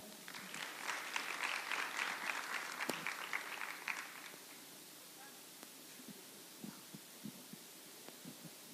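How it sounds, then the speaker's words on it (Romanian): Applause from an audience at a Holcim Romania corporate presentation, a dense burst of clapping for the first few seconds that thins out and fades into scattered claps and room noise. "vă rog să o aplaudați"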